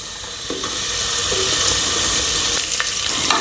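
Onions fry in a pan for methi pulao with a loud, close, continuous hiss and crackle, with a few faint stirring scrapes and no voices.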